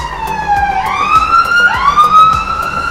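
An emergency vehicle siren wails loudly and close, its pitch sweeping up and down in repeated cycles over steady traffic rumble.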